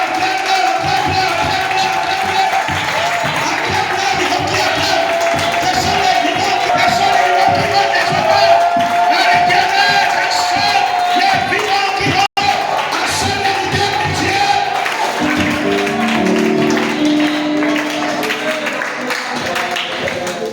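A church congregation cheers and acclaims loudly and continuously, a dense crowd roar with shouts and some clapping, and a voice speaks over it.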